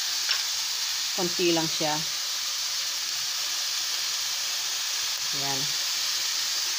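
Fish sauce splashed into a pan of browning ground meat for lumpianada, a continuous hissing sizzle throughout while someone speaks briefly near the start and again later.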